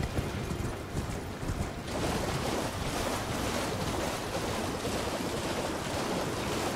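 Broad, steady rushing water from a wide river in Elden Ring Shadow of the Erdtree, a continuous wash that swells slightly after the first couple of seconds, with no speech.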